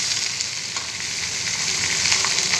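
Bottle gourd pieces fry in a curry with ginger paste, a loud, steady, dense sizzle with faint stirring and no voices.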